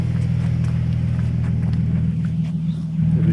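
A non-VVTi Toyota Supra twin turbo with a 6-speed idles nearby, a loud, steady low rumble with even engine pulses throughout and no talking.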